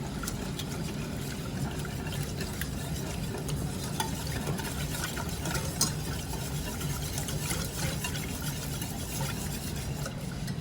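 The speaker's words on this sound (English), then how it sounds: "We're just going to whisk that till smooth" A whisk works milk into a cream cheese roux in a pan, making a continuous close churning and swishing sound with a light background sizzle and no talking.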